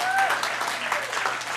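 An audience claps steadily throughout, a dense wash of applause with a faint whistle-like tone near the start and no talk over it.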